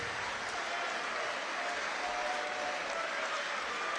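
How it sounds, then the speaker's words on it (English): A dense, steady wash of crowd applause for two boxers after a ten-round boxing match continues throughout without pause. "Can we please have a massive round of applause for both of our boxers?"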